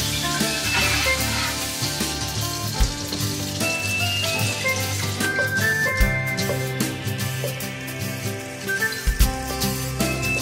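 Freshly harvested grapes simmering in a pot on a stovetop, giving a steady, dense sizzle and bubbling hiss that runs unbroken for about ten seconds.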